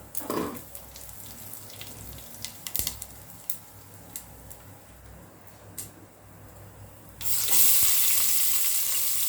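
Cinnamon sticks dropped into a spoonful of hot oil for chicken biryani; a few scattered clinks and taps give way to a sudden loud, steady sizzle that holds to the end.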